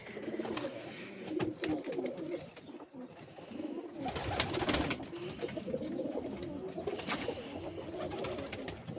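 Golden pigeons coo continuously with overlapping throaty calls, several birds close by and fairly loud, with no speech.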